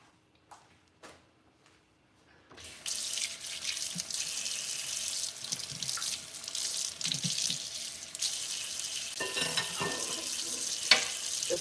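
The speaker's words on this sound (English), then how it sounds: "Just gonna rinse off my cutting board here" Tap water runs steadily into a kitchen sink as a cutting board is rinsed, a continuous close splashing hiss that starts after a few faint knocks and carries on alone to the end.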